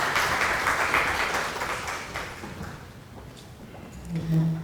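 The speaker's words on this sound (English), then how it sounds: "Guys, round of applause for everyone for doing this honor." An audience at a World Environment Day panel discussion gives a round of applause. The clapping is strongest at the start and fades gradually, then a voice briefly rises at the end.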